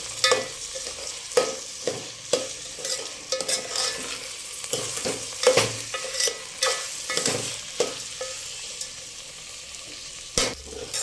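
Rice for veg pulao being roasted in a pan over high heat, a soft continuous sizzle broken by repeated scraping strokes of a spoon as it is stirred, close and alone.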